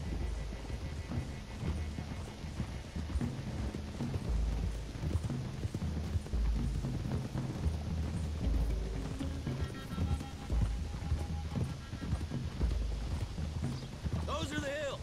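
Horses gallop in Red Dead Redemption 2, their hooves drumming in a fast continuous rhythm across a long ride, fairly faint and mixed with game ambience and voices talking over it.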